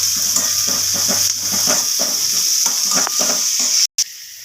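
Curry leaves crackle and sizzle in hot oil over cumin and onion, a steady bright hiss with scattered pops, close and loud, cutting out briefly near the end.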